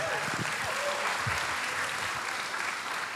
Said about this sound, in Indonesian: Berikan tepuk tangan buat tim.